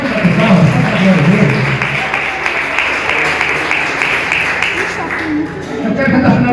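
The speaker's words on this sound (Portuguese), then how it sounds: "Vamos dar palmas, vamos dar glória a" A church congregation applauds steadily, a dense wash of many hands clapping together for several seconds, with voices mixed in underneath.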